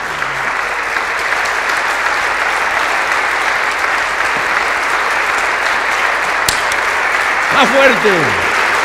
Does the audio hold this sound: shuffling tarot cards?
no